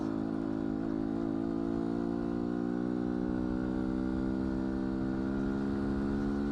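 A 2019 Beta 125 RR-S dual-sport motorcycle running fast on a road gives a constant, humming engine drone with a slowly rising pitch, fairly close and steady throughout.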